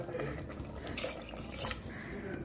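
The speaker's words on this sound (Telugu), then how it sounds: "2 గ్లాసెస్ వాటర్ పోసేసి" Water is poured from a glass into mutton curry in a pressure cooker, giving a soft, fairly faint splash and trickle that lasts a couple of seconds with small bursts of gurgling.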